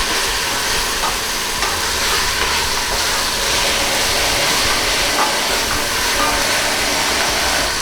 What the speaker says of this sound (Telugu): ఈ ఆనియన్స్ ఇంకా మంచిగా ఫ్రై అవ్వాలి